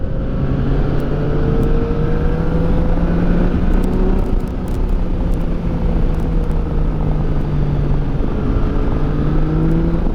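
Yamaha FZ09 motorcycle engine running hard in A mode, a loud, close, steady drone whose pitch climbs and drops back as it shifts up without the clutch, with no voices over it.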